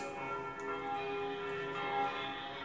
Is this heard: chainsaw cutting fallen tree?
no